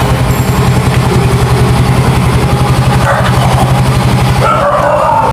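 A secondhand motorcycle engine idles close by in a steady, rapid, loud putter, with faint background noise.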